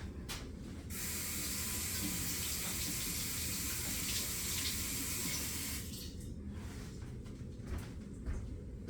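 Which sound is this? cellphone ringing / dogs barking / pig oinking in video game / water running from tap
water running from tap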